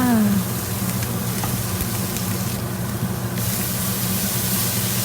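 Fried rice with egg is tossed and mixed in a hot pan, giving a loud, steady sizzle and hiss with light scraping, close up and without talk.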